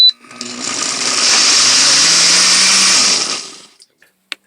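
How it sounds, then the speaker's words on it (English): A blender whirs loudly and steadily for about three seconds, blending fermented jalapenos, garlic, onions and almond milk, then spins down, followed by a few small clicks. "So that's all blended up now."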